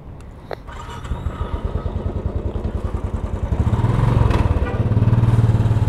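A Royal Enfield motorcycle engine starts and settles into a loud, close, steady single-cylinder thump that swells briefly as it revs, then keeps chugging evenly.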